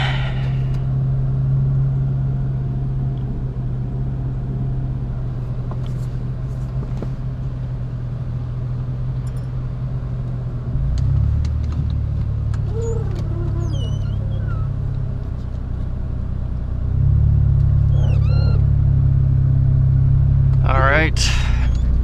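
A Mitsubishi 3000GT pulls away, its engine a low steady drone that rises in revs mid-way and again near the end, heard from inside the car with occasional faint clicks and squeaks.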